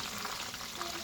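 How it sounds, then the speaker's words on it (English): Oil sizzles and crackles steadily as chicken fries in a pan, a close, dense frying sound with no talking. "And chicken still frying."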